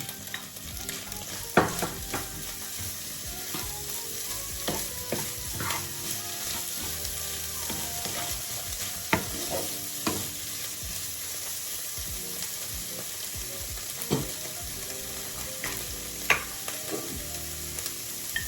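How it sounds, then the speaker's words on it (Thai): Nham, Thai fermented pork for fried rice, fries in a pan with a continuous close sizzle broken by repeated scraping stirs and clinks of the spatula, moderately quiet and with no talking. "หลังจากนั้นเราก็ ใส่แหนมลงไปเลย"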